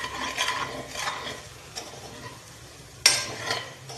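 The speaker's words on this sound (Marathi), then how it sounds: "हलवूया त्याला." A pan of eggplant curry stirred with a spoon, a series of scraping sweeps against the pan at close range, with a sharper clink near the end and no talk.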